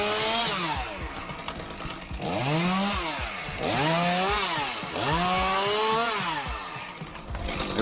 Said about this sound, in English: We start sawing this one, and now we proceed to the next tree.